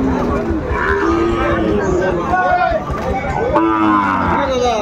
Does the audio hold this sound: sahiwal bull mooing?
yes